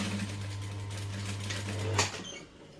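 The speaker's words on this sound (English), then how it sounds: "I'm just going to stitch along the very, very edge" A sewing machine running a steady top stitch along the very edge of joined fabric pieces, a close, even mechanical hum that ends in a short clunk as it stops.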